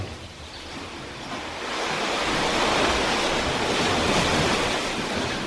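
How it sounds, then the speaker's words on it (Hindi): Ocean waves wash steadily onto a seashore in a continuous broad roar that swells slightly louder midway, with no voices over it. "पानी की उछलती मौजों की गहन आवाज़ आपके ही आनंद की अनुभूति का प्रतिध्वनि है"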